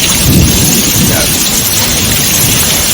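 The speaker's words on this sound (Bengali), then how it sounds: "বাইরে মেঘের গর্জন বৃষ্টি হচ্ছে ঝমঝমিয়ে" Heavy rain pours steadily with a deep rumble of thunder rolling underneath, loud and close, filling the whole stretch.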